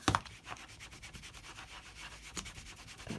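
A rubber flower stamp being scrubbed clean: brisk, repeated rasping strokes in a steady rhythm, close and fairly quiet, with no talking.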